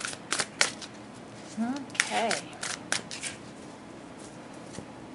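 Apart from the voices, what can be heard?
shuffling a deck of tarot cards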